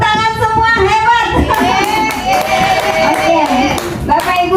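Participants in a teacher training session in Jakarta clapping their hands, a short spell of applause mixed with voices speaking and calling out over it.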